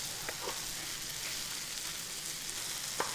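Flour-thickened beef stroganoff sauce cooking in a pan, a quiet steady sizzle with faint bubbling pops and a few brief stirring scrapes.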